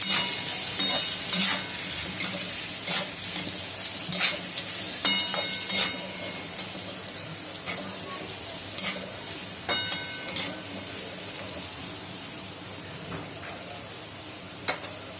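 Dried spices, turmeric and chili powder, sizzle while being stirred in a frying pan for sambar, a steady hiss broken by repeated sharp scraping strokes of the spoon against the pan, close up and without talk.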